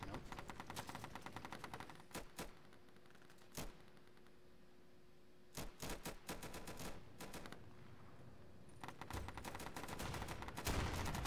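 Gunfire in the video game Insurgency, in a town map: rapid automatic bursts and single shots crackle repeatedly, loud and close, in clusters separated by brief lulls.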